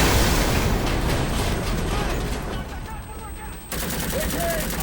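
A car is struck by a blast in a dramatic action film scene about a Canadian sniper fighting the Taliban: loud, dense rumbling impact noise with crackling bursts that drops briefly, then surges again with faint high whistling tones.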